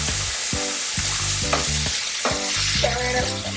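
Onions with black pepper fry loudly in a pan for ackee and saltfish, with a bright continuous sizzle and regular scraping clanks of a spoon stirring them, close and alone.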